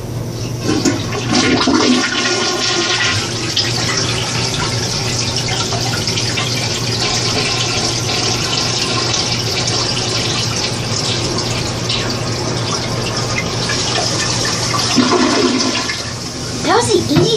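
A toilet flushes after being unclogged, a loud rushing gush of water swirling and draining for many seconds, with brief talking heard over the flow.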